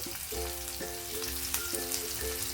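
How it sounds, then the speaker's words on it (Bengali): Potatoes and okra with turmeric frying in a pan, a brief, dense, even hiss of sizzling oil heard up close, with a faint repeating tonal background and no speech. "ভালো করে মিশিয়ে আলুটা লাল করে ভেজে নিতে হবে"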